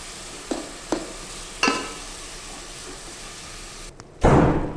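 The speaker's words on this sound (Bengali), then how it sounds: "এগুলো সবগুলো দিয়ে কিছুক্ষণ নাড়িয়ে নিতে হবে" Chicken with spices is stirred in a pan, with a few sharp spoon knocks against the metal over a low sizzle, ending in a louder burst of frying.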